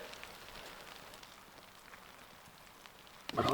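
Steady soft patter of rain on a surface, a faint continuous hiss, ending with a brief louder clatter.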